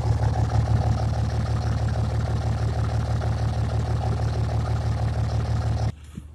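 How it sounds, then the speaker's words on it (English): A third-generation common-rail diesel truck engine idles with a deep, steady rumbling exhaust note, continuous and close, then drops off abruptly near the end. "Give you guys a nice exhaust note."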